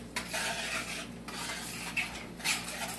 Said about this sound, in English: I'm gonna kind of give that a stir a little bit right there.